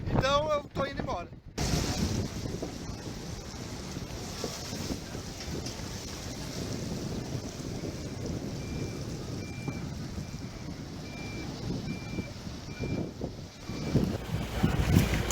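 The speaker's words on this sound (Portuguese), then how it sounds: "está ventando muito e tá querendo chover" Strong wind buffets the microphone at the Madeira River ferry crossing during flooding, a constant loud rumbling roar throughout, with brief speech near the start and a faint repeating beep partway through.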